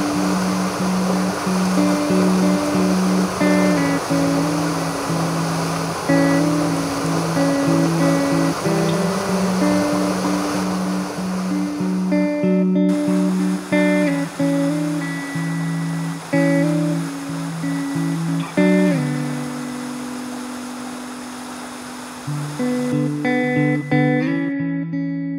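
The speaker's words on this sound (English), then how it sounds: "Alright, now I'm above the big falls." A waterfall on a snowy creek roars steadily and loudly nearby, a dense continuous rush of falling water with some tonal hum mixed in, and no voices.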